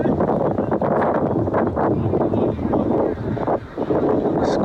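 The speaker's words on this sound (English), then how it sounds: "It's quite cold and windy." Steady wind buffeting the microphone at an outdoor cricket match on a cold day, a constant rough rumble filling the whole clip with faint voices underneath.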